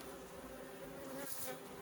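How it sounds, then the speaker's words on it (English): Honey bees swarm around an open hive during an inspection, a dense continuous buzzing drone close to the microphone, fairly quiet overall with no voices. "Okay, lots of bees."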